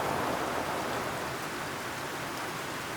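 Heavy rain pours down steadily outdoors in the Philippines, a dense, even hiss of downpour filling the whole moment with no voices.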